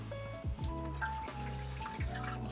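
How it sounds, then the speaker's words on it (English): Water pours and trickles into a drip tray inside a Kamado Joe barbecue grill, with a steady filling sound whose pitch shifts as it splashes, close by and continuous for a couple of seconds. "water into the drip tray"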